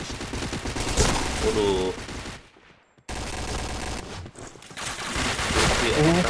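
Gunfire in a mobile shooter game crackles in loud, dense automatic bursts, broken by a short quiet gap before firing resumes, while a voice talks over it.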